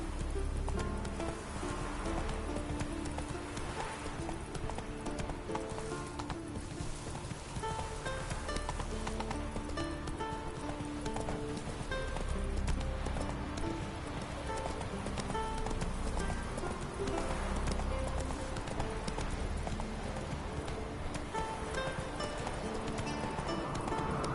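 A horse gallops steadily in The Witcher 3 on PS4, its hoofbeats a continuous rhythmic clatter mixed with ambient game sound throughout, with no talking.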